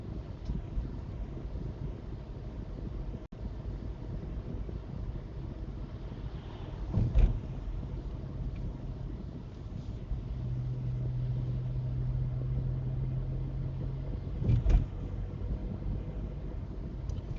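A car on a driving lesson shifting through the gears, giving a steady low engine and road rumble with wind noise and a couple of brief thumps as the gears change.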